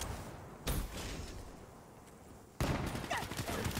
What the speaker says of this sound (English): I love the SMGs in this game.